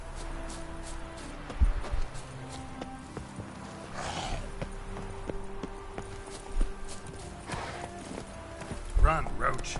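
Roach the horse gallops in The Witcher 3, a steady clip-clop of hooves over game ambience, with a horse snort and whinny-like bursts partway through and near the end, moderately close.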